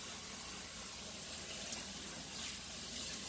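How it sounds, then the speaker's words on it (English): Tap water runs into an aluminum pan as it is rinsed in a sink, a steady close rushing flow that stays even and fairly loud throughout. "I'm just rinsing my pan out."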